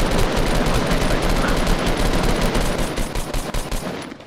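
Fortnite gunfire pours from several players at once, a loud, continuous barrage of rapid overlapping shots that breaks into distinct pulsing bursts toward the end.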